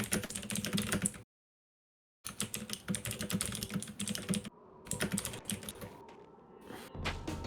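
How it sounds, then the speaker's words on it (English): Rapid, dense typing on a mechanical keyboard, close and loud, with bursts of clattering keystrokes broken by a full silent gap and a quieter, sparser stretch before the typing picks up again. "You love your mechanical keyboard?"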